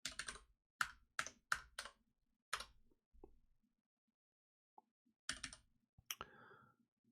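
Typing on a computer keyboard in short clustered bursts of crisp key clicks separated by pauses, close and quiet against a silent background, with no talk.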